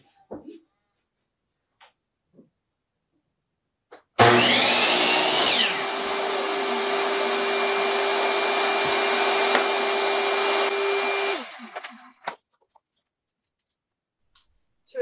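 A power saw trims length off a wooden fence picket for a snowman porch leaner, running loud and steady for about seven seconds before winding down, with a few faint clicks and handling knocks before and after.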